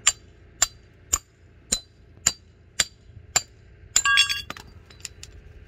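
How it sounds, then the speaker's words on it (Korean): Hammer striking tough acacia wood at a late-night outdoor charcoal grill spot in Janggohang: about eight sharp, evenly spaced ringing blows, then a brief rattling clatter and a few lighter taps. "이거 망치질 상당히 잘해야 됩니다."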